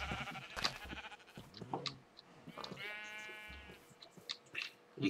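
Sheep in the Minecraft video game bleat several times in quick succession, one long wavering bleat in the middle, with other soft game sounds between, no talk.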